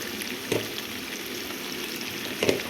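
Onion paste and chili powder sizzle steadily in a hot pan for chola curry, a continuous soft frying hiss with two brief louder stirring bursts, no voices.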